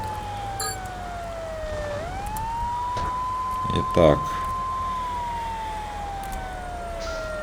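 Fire truck siren in the video game GTA 3, a loud wailing tone that holds steady, dips, then rises back and stays level. A brief thump breaks in near the middle, and someone says a couple of words.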